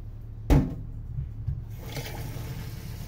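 Water being poured into a pot of uncooked rice for cooking, a single splashing pour at the start followed by low trickling and faint handling noises, close by.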